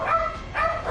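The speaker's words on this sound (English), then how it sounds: "those dogs are actually getting really noisy" Two short dog barks in a Darkest Dungeon gameplay session, quick and moderately loud, alone without talk.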